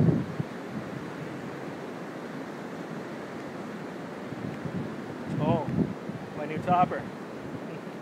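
Surf washing onto a beach, a steady broad wash under strong wind buffeting the microphone, with brief voices speaking partway through.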